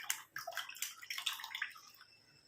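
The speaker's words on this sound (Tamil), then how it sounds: "இப்போ நம்ம இந்த இரும்பு கடாயை நல்லா வாஷ் பண்ணிக்கலாம். தண்ணி ஊற்றி அலம்பிட்டு" Water splashes and swirls as an iron kadai is rinsed and washed, a steady run of close, faint sloshing and dribbling with no voices.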